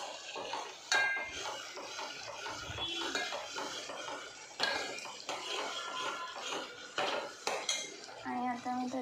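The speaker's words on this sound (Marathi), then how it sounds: "आणि बघा मसाला टाकला आणि आता आपल्याला परतवायचं तेलामध्ये" Spices stirred in hot oil in a pan: repeated metallic scrapes and clinks of a spoon against the pan, irregular and close, with a faint sizzle underneath and no talking.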